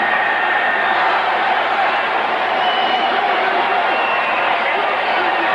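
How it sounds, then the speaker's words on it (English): A stadium crowd roars steadily through a 1999 NFL football game between the St. Louis Rams and the Saints, a dense, loud wash of cheering and voices that holds at an even level the whole time. "Listen to the people cheering."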